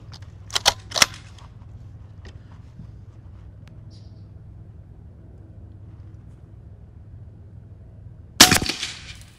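Two sharp air rifle shots firing 80.8 grain AEA pellets at a target, each crack loud and close with a brief ringing tail, separated by about eight seconds of quiet background hum.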